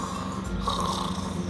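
A person's voice imitates snoring, making a short, close, rough rattling breath sound that holds steady for just over a second.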